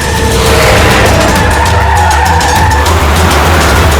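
A van carrying children swerves along a road, its tires skidding in a loud, continuous squeal with a steady engine roar underneath, sustained throughout.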